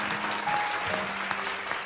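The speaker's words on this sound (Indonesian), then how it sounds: "Kita berikan tepuk tangan yang luar biasa untuk Bunda Yudit." A studio audience at a television talk show gives a brief burst of clapping. The many hands blend into a steady patter, with a faint tone in the background.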